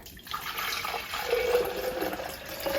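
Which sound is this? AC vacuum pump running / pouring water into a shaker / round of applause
pouring water into a shaker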